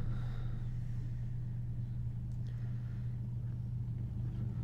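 A Dodge Coronet Super Bee engine in the Forza racing game idles with a deep, steady low rumble, close and loud, with faint higher mechanical whines briefly above it.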